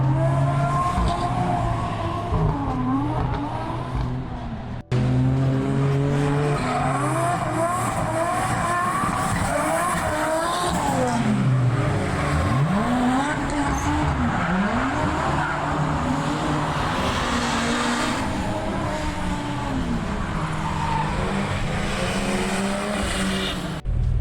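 Small kei cars lapping a race track in Japan during a track day, engines revving and whining through gear changes with tire squeal, cars passing close by one after another in a continuous loud stream.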